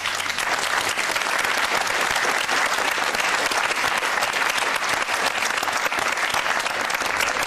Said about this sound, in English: Is that a round of applause for Oxford?